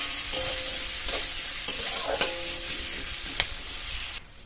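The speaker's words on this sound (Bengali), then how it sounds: "সব কিছু দিয়ে খানিকক্ষণ ভেজে নেব।" Peanuts, lightly fried and shelled, sizzle steadily in a pan with other ingredients while being stirred, a continuous close hiss broken by occasional scraping taps of the spoon.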